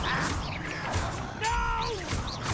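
Confringo spell blast in the Hogwarts Legacy video game: a short whooshing burst with a crackling impact, brief and fairly loud, with faint game noise around it.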